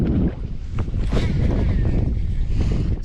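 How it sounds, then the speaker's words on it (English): Wind gusting across Lake Guntersville around a fishing boat on the water, a steady, loud rushing roar that fills the whole clip, with a voice speaking faintly beneath it. "It's a little windy today."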